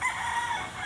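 A rooster crows nearby in one clear, drawn-out call that rises and fades, heard alone without voices.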